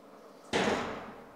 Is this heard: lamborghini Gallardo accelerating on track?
no